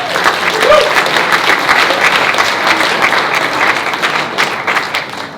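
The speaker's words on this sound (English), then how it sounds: "please give a big round of applause to Andrew" An audience at a live group meetup breaks into enthusiastic applause, a dense burst of clapping that holds steady for several seconds before starting to fade.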